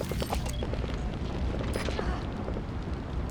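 Muffled booming gunfire in rapid bursts amid a continuous rumble in Metal Gear Solid 5, sounding like a noisy battle with shots layered over each other.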